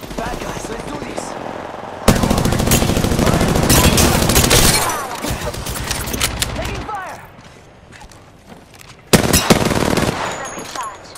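Rapid gunfire rattles in the video game Apex Legends, with long, dense bursts of loud automatic shots that stop and restart, plus a later sharp volley and game voices in between.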